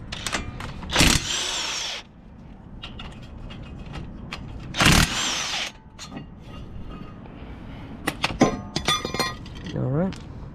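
A big impact wrench with a 17 mm swivel socket works on a Toyota RAV4 front brake job: two loud, sharp bursts of rattling hammering, each lasting about a second, with clinks of tools, a voice in between, and a final whirring rattle.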